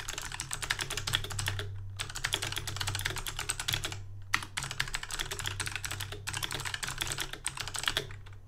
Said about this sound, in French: Je déteste le bruit de ce clavier.